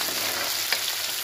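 Onions sizzle in a pan with a bright, steady frying hiss, and a single scrape of stirring cuts through midway; no one speaks.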